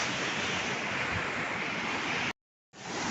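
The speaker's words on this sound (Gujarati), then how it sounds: "ભયંકર પૂર છે ભાઈ." Floodwater rushes through a swollen river in a loud, unbroken roar that drops out briefly near the end before resuming.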